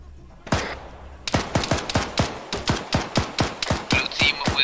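A DShK heavy machine gun fires in Arma 3 during an urban Fallujah operation: one early shot, then a steady rhythmic burst of about a dozen loud, booming rounds, with no talking.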